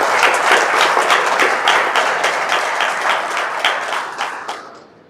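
A large audience at a World English-Speaking Scrabble Players Association championship event in Accra gives a big, dense round of applause for the association's president, loud and sustained before tapering off at the end.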